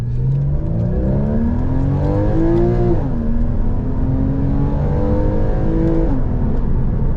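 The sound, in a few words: Porsche Boxster 981 engine accelerating through gears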